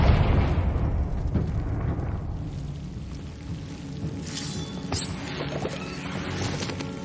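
Confringo fire spell blast in the Hogwarts Legacy video game, a loud burst at the start that decays into a crackling, fiery rumble, with scattered sharp pops and impacts later.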